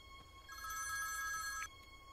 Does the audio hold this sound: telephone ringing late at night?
yes